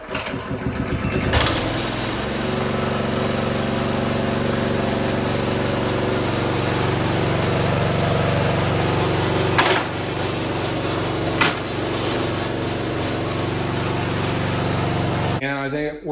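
A small gas engine on a log splitter, freshly repaired with a new clutch and a properly tensioned belt, starts with a pull and settles into a steady, fairly loud idle with a couple of brief knocks before cutting off.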